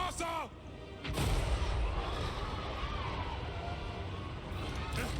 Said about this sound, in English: Go ahead and fire back at you here for a couple more rounds.